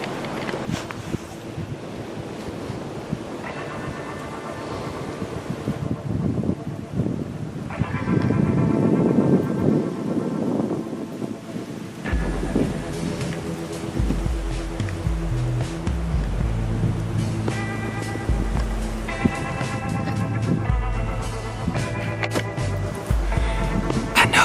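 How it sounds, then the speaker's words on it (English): Heavy wind roars across an outdoor hunting stand, rumbling and gusting into the microphone with surges that rise and fall, while tonal sounds come and go over the top. "It's windy terrible."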